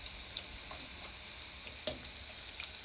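Onion rings fry in a pan of hot oil with a quiet, steady sizzle and faint crackles, topped by one sharper pop partway through, with no voices.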